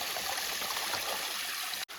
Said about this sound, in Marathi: पाणी वाहत आहे वाहता पाणी आहे